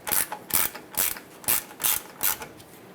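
A hand ratchet tightens the mounting nut on the neutral safety switch of a Ford E-350 van, clicking in six steady, evenly spaced bursts, close and alone with no talk.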